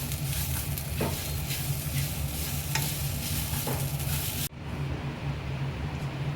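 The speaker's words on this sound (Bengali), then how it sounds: "পেঁয়াজ আর নারকোল কোড়া দিয়ে ভালো করে নাড়িয়ে চাড়িয়ে নিচ্ছি।" Onion and grated coconut are stirred in a pan, with a dense, even sizzle and a few soft scraping strokes. The sound drops abruptly near the end, then continues more quietly.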